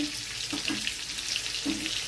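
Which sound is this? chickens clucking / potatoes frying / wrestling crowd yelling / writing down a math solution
potatoes frying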